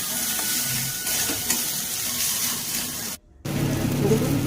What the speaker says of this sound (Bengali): ধনেপাতা কুচি দিয়ে ভালো করে সমস্ত মশলাকে ভালো করে নেড়ে ভালো করে ভেজে নেব